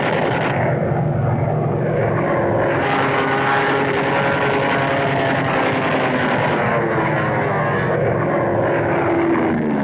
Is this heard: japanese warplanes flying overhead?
yes